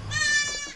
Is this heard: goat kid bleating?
yes